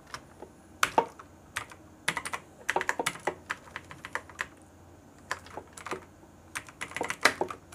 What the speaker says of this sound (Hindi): अब मैं यहाँ पर टाइप करूँगा जैसे कि आप व्हाट्सएप में टाइप करते हैं या चैट करते हैं